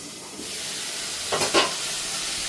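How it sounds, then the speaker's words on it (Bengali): Fish curry with okra cooking in a pan, a steady close sizzle of frying with a short pair of stirring scrapes near the middle. "মাছ দিয়ে ঢেঁড়স দিয়ে তরকারি রান্না করছি"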